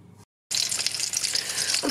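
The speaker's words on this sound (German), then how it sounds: "Und jetzt werden wir in der Pfanne schön langsam goldbraun frittieren." Porcini mushrooms in a seed-and-breadcrumb coating fry in hot fat in a pan, a loud, close, steady sizzle that starts abruptly after a short silence and continues crackling throughout.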